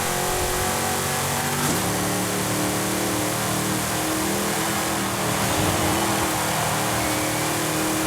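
A Ford Mustang's engine in the racing game Forza Horizon 5 pulls hard under throttle, with a loud, continuous drone that rises and shifts through gear changes for several seconds.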